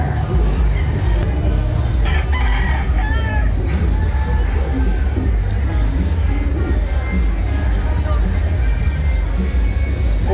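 Roosters crow amid constant crowd chatter and clucking game fowl, a busy noisy yard at a game fowl festival with voices talking throughout.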